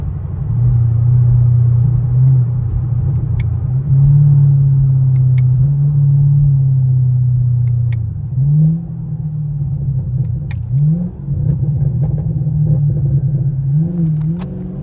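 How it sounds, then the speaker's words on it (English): A car engine with a muffler-delete exhaust idling with a deep, loud rumble, blipping and revving a few times over a steady throaty drone. "I got my new exhaust put on. And that thing sounds so good."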